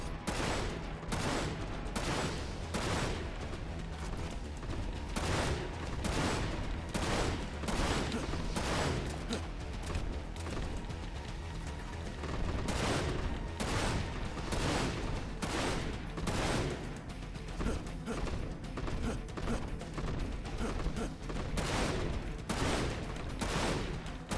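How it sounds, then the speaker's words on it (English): Gunfire rings out in the shooter game Dirge of Cerberus: Final Fantasy VII, with dense, rapid bursts of shots continuing for over twenty seconds, loud and nearly constant. "I'm too slow with the sniper rifle."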